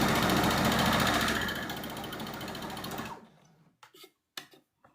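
A sewing machine stitches straight over pins, running fast and steady for about three seconds before slowing to a stop, followed by a few short, sharp clicks and knocks from handling nearby.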